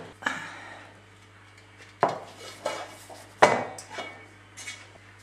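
An angel food cake being taken out of its tube pan: a few sharp metallic knocks and clanks at irregular intervals, with lighter scraping between them, close by.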